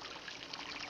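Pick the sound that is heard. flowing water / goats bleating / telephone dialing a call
flowing water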